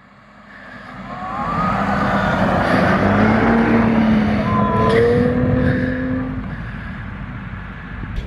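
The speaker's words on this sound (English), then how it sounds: "I'm about to drag race Eddie in the slowest drag race of all time" Two cars, one of them a Hellcat, accelerate together from a standing start in a slow drag race, with engine tones rising steadily as the noise builds and holds loud, then eases slightly.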